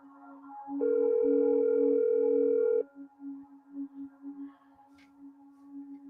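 A telephone tone over the line: a steady, loud continuous tone held for about two seconds, then cutting off and leaving a fainter, pulsing hum with soft background noise.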